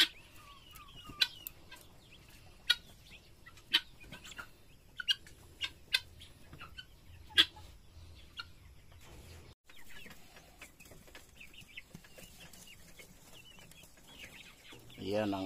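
Newly hatched turkey chicks peep in sharp, scattered high chirps, faint and close in a quiet rural setting, with a brief louder rustle near the end.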